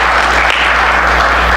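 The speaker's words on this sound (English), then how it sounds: "How about a round of applause for the Board of Trustees?" A crowd applauds the Board of Trustees at a college bequest ceremony honoring donors, the clapping a steady, dense wash that fills the whole short stretch without a break.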